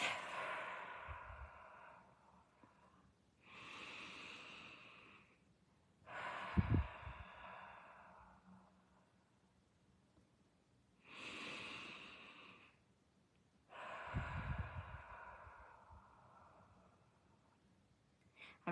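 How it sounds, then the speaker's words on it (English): Three slow, deep breaths, each a long airy inhale followed by a breathy exhale that ends in a soft puff, spaced evenly with quiet pauses between them. "Let's take 3 deep breaths."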